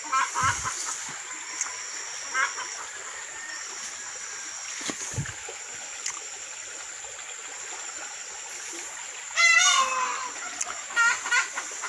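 A chicken up in the trees clucks and calls in short bursts outdoors, moderately near, against a steady hiss of a running creek and faint background birdsong.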